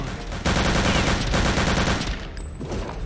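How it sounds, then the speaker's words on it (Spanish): Rapid bursts of gunfire in the video game Return to Castle Wolfenstein rattle loudly and continuously, a dense automatic volley that eases briefly near the end. "Solo disparo desde donde vienen los disparos"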